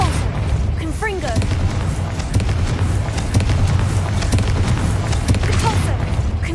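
Confringo blasting-spell explosions in the PC game Hogwarts Legacy, a continuous barrage of booming bursts and crackling debris that fills the whole stretch at high volume.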